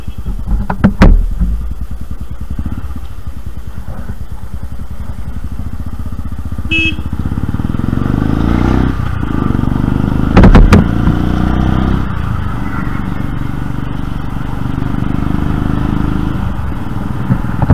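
A motorcycle rides off-road on a road trip from the Statue of Unity to Surat, its engine droning steadily and loudly at close range for the whole stretch with brief rises and rattles, and no talk over it.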